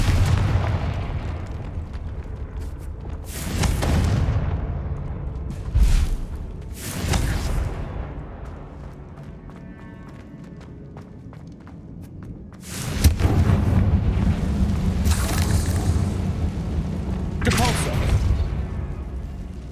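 Confringo fire spell blasts from Hogwarts Legacy: several loud, booming bursts in irregular succession, each with a sharp attack and rumbling tail, over a steady bed of game ambience and music.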